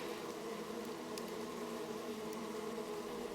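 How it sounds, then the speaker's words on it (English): A swarm of bees at a desert petroglyph site in Joshua Tree National Park, California, gives a steady, even insect drone throughout, moderately close and alone with no talking. "There's a swarm of bees, and I don't know if there's a hive there."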